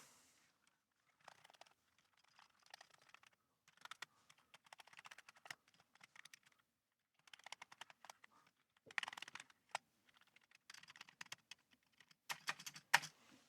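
Keys being typed on a Commodore keyboard during a keyboard test, quick bursts of clicky keystrokes in irregular clusters with short pauses, close and fairly quiet, no voices.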